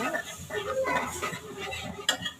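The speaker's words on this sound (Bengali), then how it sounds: "তো প্রথমে আমি হলুদের গুঁড়া দিয়ে নিলাম, একটু নেড়ে ছেড়ে নিব।" Fried onions with turmeric powder stirred in a pan, with a spatula scraping and clinking against the metal in short bursts near the microphone and a sharper knock near the end.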